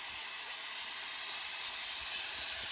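Corn-straw silage chopper sharpening its blades gives a continuous, loud, steady grinding hiss with a mechanical rush underneath, unbroken throughout.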